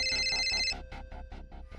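A telephone ringtone plays nearby, first as a steady electronic tone and then as a string of short repeated rings in a quick, even rhythm.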